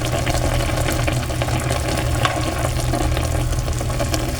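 Tulingan fish cooking in a pan for paksiw na tulingan sa kamias, giving a loud continuous sizzle and bubbling with a steady low rumble underneath and no voices.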